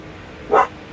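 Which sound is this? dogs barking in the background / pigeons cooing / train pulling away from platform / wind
dogs barking in the background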